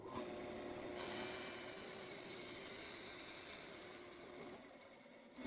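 A saw makes a steady rasping, whirring cut through a scrap piece of MDF. The sound holds continuous and fairly loud for several seconds, then eases slightly toward the end, with no talking.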